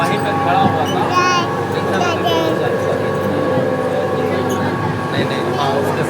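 Inside a crowded moving train, a continuous loud rumble and rattle of the carriages runs under a dense mix of many voices chattering nearby.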